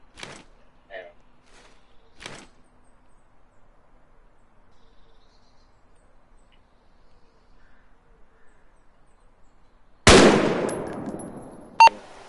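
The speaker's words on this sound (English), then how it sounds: "Now I'm going to shoot this one and this one, the 2 red ones, just to... With the AR or the pistol." Two shots at red targets from an AR rifle or pistol: a loud, sharp broadband blast near the end with a decaying tail, then a second brief crack, after long quiet with faint clicks early on.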